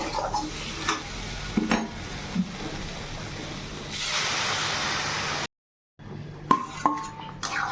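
Potato curry with salt, turmeric and chilli being stirred in a pan: a sizzling hiss with scraping spoon strokes and metal clinks, close up, a brief dropout before clanks resume.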